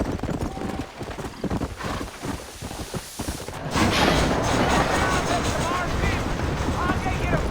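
Horse hooves clip-clop at a steady trot in the Western game Red Dead Redemption, loud and close, with a rushing ride and voices talking over the start.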